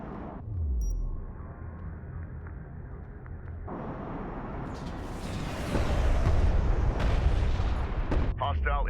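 Airstrike explosions in Homeworld: Deserts of Kharak as distant booms and rumbling blasts that swell louder toward the end, with whooshes and a game radio voice over them.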